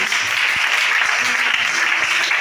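A church congregation at a Sunday worship service in Libreville, Gabon applauds in a loud, dense, steady burst of clapping that fills the whole moment.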